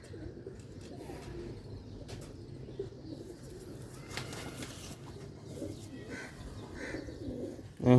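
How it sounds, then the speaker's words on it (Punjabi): Sialkoti pigeons coo softly and steadily, a low continuous murmur of several birds close by, with a brief louder bump at the very end. "ਇਹ ਉਹ ਕਬੂਤਰ ਨੇ ਸਿਆਲਕੋਟੀ"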